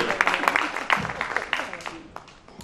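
Audience clapping at a charity team event, a scattered, uneven patter of hands running through the whole stretch with voices mixed in underneath.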